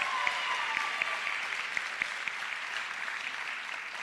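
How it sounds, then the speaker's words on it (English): Steady applause from an audience at a high school recognition night honoring students, dense clapping sustained evenly throughout with no talking. "Have another round of applause, please, for these amazing students."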